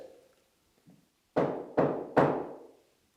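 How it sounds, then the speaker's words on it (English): Three sharp knocks on a hard surface, loud and close, during a paranormal investigation, with a short pause after the first and the last two following close behind; faint low murmur and a small tap before them. "That was a double knock."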